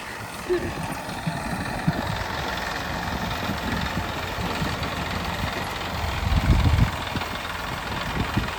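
A millet threshing machine's engine runs steadily in a farm field, a continuous low drone with a rumbling swell toward the end.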